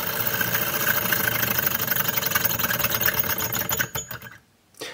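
A twin cylinder Stirling engine from an Enginekitor kit runs on retained heat after its fire is blown out. It gives off a rapid, even mechanical ticking and whirring that continues steadily and then cuts out, leaving near silence before a brief return.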